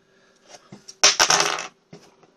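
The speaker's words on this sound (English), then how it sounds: "And that was one of Optimus Prime's blasters falling on the table." A small hard plastic Transformers Cyberverse Optimus Prime toy blaster clatters onto a tabletop with a sharp bright impact and brief rattle, preceded and followed by faint handling noises.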